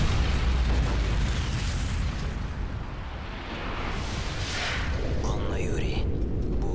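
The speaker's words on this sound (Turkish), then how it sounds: "Nükleer patlıyor." A nuclear blast in Call of Duty Modern Warfare 3 erupts as a loud, deep roaring rumble that swells and rolls on steadily, with faint voices murmuring underneath.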